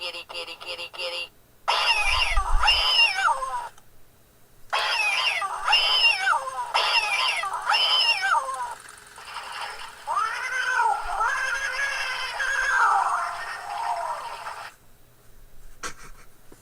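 A house cat meows repeatedly, in a series of close, clear, drawn-out cries broken by short pauses, ending in a longer wavering yowl.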